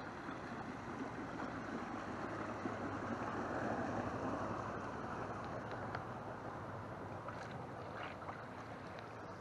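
A bass boat motor droning steadily in the distance over lapping lake water, faint and continuous with no one speaking.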